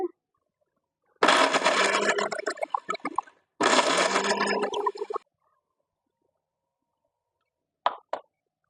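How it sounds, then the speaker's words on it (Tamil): A kitchen mixer grinder pulses grated coconut in two loud whirring bursts of about two seconds each, followed by a brief faint rattle near the end. "இப்போ தேங்காயை பல்ஸ் மூடில் போட்டு"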